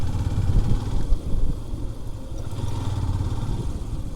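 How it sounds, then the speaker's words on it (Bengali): Motorcycle ridden alongside Altadighi lake in Altadighi National Park: a steady mid-pitched engine drone with rough clattering texture, fairly close, continuing without pause. "আলতা দিঘির পাশ দিয়ে আমি ড্রাইভ করছি, মোটরসাইকেল ড্রাইভ করছি"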